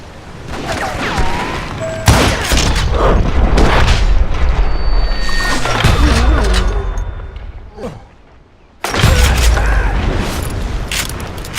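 Loud, dense gunfire and booming shots fill a Wild West shootout in the video game Call of Juarez: Gunslinger, continuous for several seconds before a short lull and another heavy burst.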